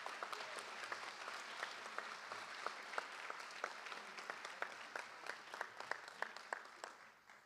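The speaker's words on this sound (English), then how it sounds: "let's give them another round of applause" A school board meeting audience gives students another round of applause, faint, moderately paced clapping with distinct individual claps in a room, tapering toward the end.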